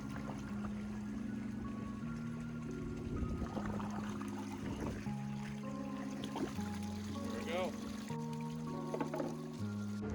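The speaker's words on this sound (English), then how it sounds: "And we'll turn the jets back on. Purge that air out of the system." Hot tub jets run and purge air from the system, producing a steady low motor hum with gurgling, bubbling water and shifting pitch as the air works through; no talking.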